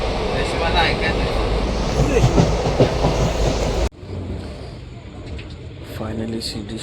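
A Mumbai local train runs on its rails with a loud, close rumble and rhythmic clatter, then the sound shifts abruptly to a quieter, more muffled interior roar.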